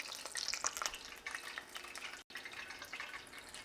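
Corn fritters fry in warm oil in a skillet, with a soft, close sizzle and scattered crackling pops that break off for a moment and then carry on quietly.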